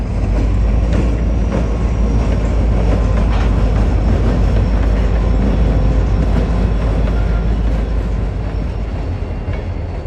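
A train rumbles through a rail yard, a loud, continuous roar with faint rhythmic clatter of wheels on track and no pauses.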